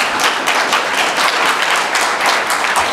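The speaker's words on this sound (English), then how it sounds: "Please give a big round of applause for Guy Benson." Loud, close applause from a conference audience greeting a keynote speaker, dense and continuous with a lively rippling rhythm of many hands.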